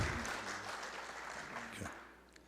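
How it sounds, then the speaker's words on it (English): Audience applause in a city council chamber during a proclamation ceremony, a dense round of clapping that fades toward the end, with a voice briefly audible underneath. "let's give them another round of applause, all of them, please"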